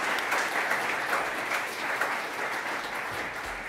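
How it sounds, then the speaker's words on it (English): Audience applause for a conference panel, a steady wash of many hands clapping at moderate level throughout, without speech. "Can I get a round of applause for our panel,"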